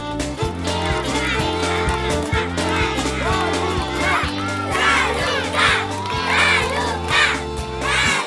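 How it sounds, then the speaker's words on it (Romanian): Spectators cheering and shouting to support girls racing in a timed village contest, a loud crowd of mixed voices with excited yells and whoops, sustained throughout with rhythmic background music underneath. "fetele au fost susținute și aplaudate de toți spectatorii noștri"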